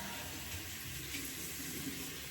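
Lukewarm water running from a tap during skincare at a sink, a faint steady hiss of flow lasting throughout without pauses or voices.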